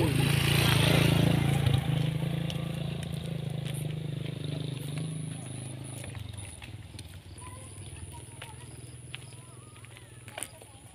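Motorcycle engine droning loudly at first while riding along a road, its low rumble gradually easing and fading over the ride amid clatter and wind, with voices talking over it.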